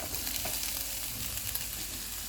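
Chicken with capsicum and onion fries in a pan over medium heat, giving a steady, close sizzle with faint crackles and no talking.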